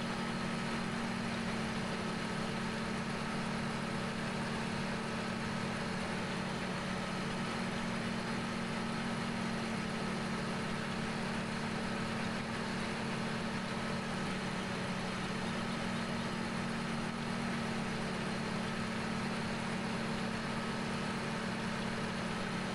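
Diesel engine of a tractor pulling a very long road train of trailers idles steadily in Farming Simulator 17, a continuous low droning hum with no other sounds.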